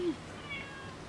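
A cat gives a single short meow, close and fairly soft, at the very start, followed by quiet room tone with a faint thin whine.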